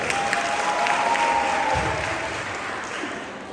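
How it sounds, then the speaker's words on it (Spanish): A church conference audience breaks into brief, lively applause, a dense burst of clapping that tapers off over a few seconds. "Un aplauso"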